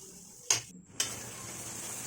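Spice masala with turmeric and chilli powder and a splash of water being fried and stirred in a pan for a dal; two sharp scrapes stand out over a soft, steady sizzle, with no talking.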